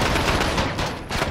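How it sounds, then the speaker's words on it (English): Rapid automatic gunfire in Modern Warfare, a dense loud burst of close shots firing continuously for about a second and a half. "Stop firing."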